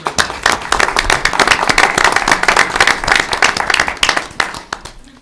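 Council meeting attendees give a standing ovation, loud, dense, close clapping sustained for several seconds before trailing off.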